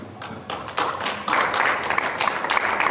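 Church congregation clapping in applause, a scattered round of hand claps that swells and fills out midway, moderately loud throughout.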